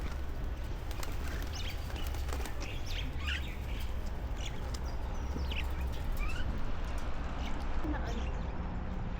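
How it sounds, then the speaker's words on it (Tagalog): Many birds chirping and tweeting at a hilltop spot at Kok Tobe in Kazakhstan, scattered short calls over a steady low outdoor rumble, fairly close. "Daming ibon."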